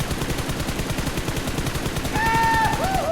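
Rapid rhythmic automatic gunfire in PUBG Mobile, steady and fairly loud throughout, with a rising whistling tone joining near the end.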